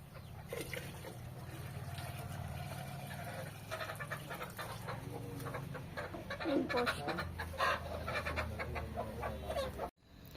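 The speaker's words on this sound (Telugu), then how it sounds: "కోళ్ళు." Village chickens cluck and call in a busy flock nearby, with scattered bursts over a low background hum and a person talking faintly at moments, ending in an abrupt cut.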